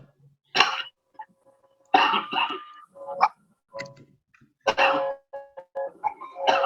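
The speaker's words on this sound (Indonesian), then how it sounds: "maaf saya batuk nih" Several harsh coughs come in separate bursts, some single and some doubled, close to the listener with short silences between.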